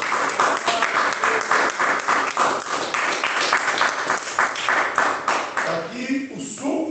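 Church congregation clapping during a service, steady rhythmic applause from a gathered crowd, fairly close and sustained, with a voice speaking faintly over it near the end.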